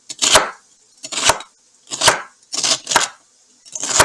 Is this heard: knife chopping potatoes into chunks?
yes